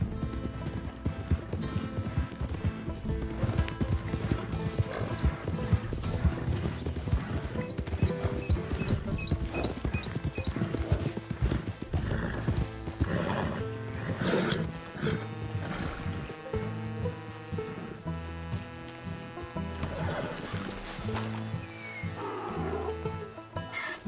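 A donkey in the video game Red Dead Redemption 2 clops its hooves in a steady, continuous rhythm beneath loud, dense game music that runs throughout.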